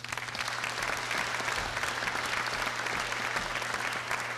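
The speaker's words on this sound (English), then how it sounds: "so please give him a round of applause." Audience at a state representative candidate forum applauding, a steady, even wash of many hands clapping throughout, somewhat distant in a room with no voices on top.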